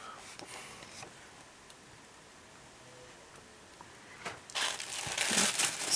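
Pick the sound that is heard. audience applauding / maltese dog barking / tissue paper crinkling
tissue paper crinkling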